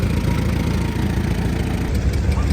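A mini Marshall tractor engine drives a stone crusher at a tractor fest, running as a steady, loud, low rumbling idle throughout with no pauses.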